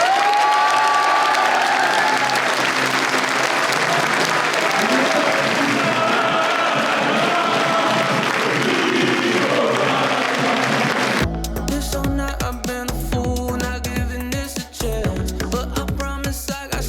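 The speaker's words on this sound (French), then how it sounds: "faire un tonnerre d'applaudissements pour celui qui est le GOAT ici à Bordeaux-Montaigne" Loud, thunderous applause from a university crowd at Bordeaux-Montaigne greets historian Nicolas Patin, dense clapping sustained for about eleven seconds before giving way abruptly to music.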